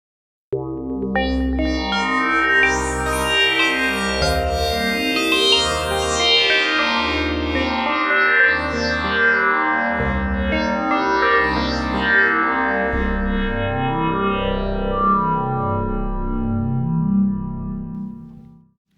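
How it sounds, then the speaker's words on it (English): Hydrasynth synth patch played with bit reduction switched off: a bright, rich sustained tone with shifting chords and sweeping harmonics, steady and loud for about eighteen seconds before fading out, with no voices. "Now let's hear that same patch, and we'll remove the bit reduction."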